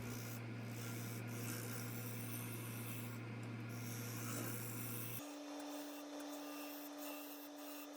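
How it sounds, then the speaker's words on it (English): Wood lathe spinning a western maple bowl at about 850 RPM, a steady motor hum with a faint rubbing scrape of the tool, shifting to a higher, thinner drone partway through, with no talking. "the lathe was around 850 RPM at this point"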